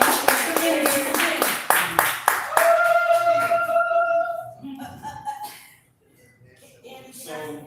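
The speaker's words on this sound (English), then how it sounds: "Now clap your hands. Go clap, clap, clap." A crowd at an open mic night claps hands in a quick burst of sharp claps, then a voice takes over and the clapping fades out.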